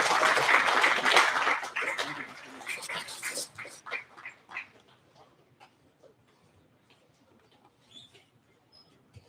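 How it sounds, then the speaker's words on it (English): Audience applause after a lecture-series talk on sports sensors, a dense burst of clapping that is loud at first, then thins into scattered claps and fades to near quiet. "Give him a big round of applause."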